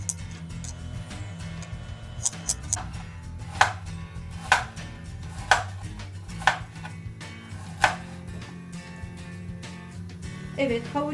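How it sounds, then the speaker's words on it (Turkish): Steady, rhythmic knife chopping of carrots on a cutting board, quick light taps with regular louder strikes, close by over a low background hum. "Avucumu da hemen ince ince doğruyorum."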